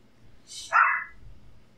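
A small dog gives a single sharp, high-pitched bark, close and clear against a quiet background.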